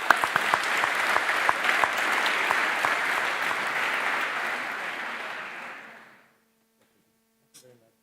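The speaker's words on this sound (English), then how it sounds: "this applause is for you" Full audience applause in a large plenary hall at an animal science congress, a loud dense roar of clapping that holds steady, then tapers off and fades to near silence, followed by a faint brief knock.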